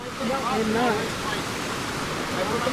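A slightly swollen creek flows along a hiking trail in the Pacific Northwest, giving a steady, broad rushing of water with a brief voice audible near the start.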